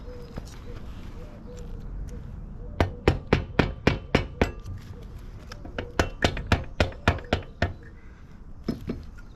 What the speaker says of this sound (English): we can take this rubber hammer